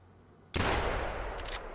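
A single loud, close blast from a 10-gauge lever-action shotgun fired at an elk in theHunter, hitting with a sharp crack and then rumbling into a long decaying tail.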